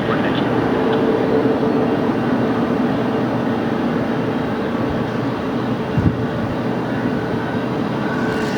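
A Boeing 777 airliner at LAX gives a steady, loud, broadband roar that holds evenly throughout, with a brief thump near the end.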